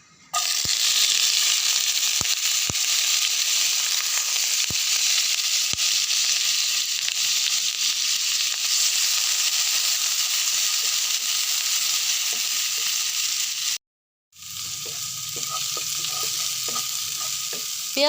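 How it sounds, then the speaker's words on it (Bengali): Onions and green chillies fry in hot oil in a wok, making a loud, steady sizzle with occasional stirring knocks and no voices. The sizzle cuts out for a moment, then resumes with scraping stirs. "পেঁয়াজ ভালোভাবে ভেজে নিব"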